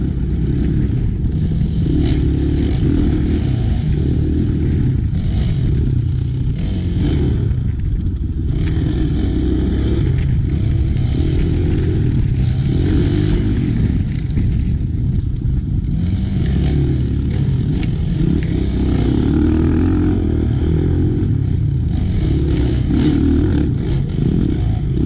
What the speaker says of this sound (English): I'm riding the entire trail standing up, controlling the bike mainly with my feet and my lower legs.